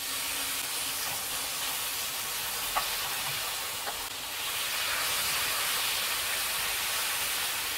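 Shawarma searing untouched in a hot pan, a steady bright hiss of frying that swells slightly louder midway, with a few faint clicks and no speech.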